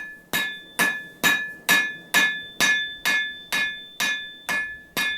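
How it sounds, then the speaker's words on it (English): Hammer forging a hot wire rope cable into a Damascus knife blade: eleven sharp, ringing metallic strikes at a steady rhythm of roughly two per second, loud and close, each blow decaying before the next, with no voices. "I like to keep my heat pretty high as I'm forging out at first."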